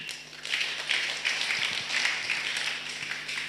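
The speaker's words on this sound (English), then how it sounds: "A better clap for her." An audience at a health and sanitation symposium at Tangaza University breaks into applause, a dense patter of many hands clapping steadily. It sounds moderately loud and slightly distant, and a low hum runs underneath.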